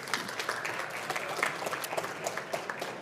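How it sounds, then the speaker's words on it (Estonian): Audience applause at a business conference presentation, a dense wash of steady clapping from a seated crowd, continuous and fairly full for the whole stretch, with no talking over it. "suur aitäh Kristiinale, aplaus palun."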